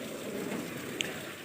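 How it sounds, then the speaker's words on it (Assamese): Light outdoor rain falls as a steady, soft hiss with a single small clink of a washed dish partway through. "এতিয়া বাচন ধুই থাকোঁতে লাহে লাহে বৰষুণে আহিল"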